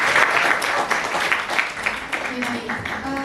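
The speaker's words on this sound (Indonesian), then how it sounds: "Boleh tepuk tangan untuk kita semua." Applause breaks out at the end of an academic publishing workshop, a burst of clapping from a modest crowd that thins and fades into scattered claps, with a voice briefly audible near the end.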